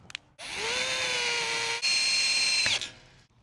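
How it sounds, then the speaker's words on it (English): Cordless drill with a light clutch setting driving a thread tap, a close, loud whirring run that spins up, holds steady, briefly shifts pitch, then stops, alone without talk. "I set the clutch on the drill really light, so hopefully it'll make the drill slip before it breaks the tap."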